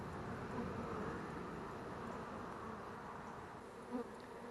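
Honey bees drone in a continuous dense buzz inside a water meter box, close and steady with no voices.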